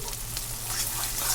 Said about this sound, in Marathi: आता आपण मसाला परतून घेऊ।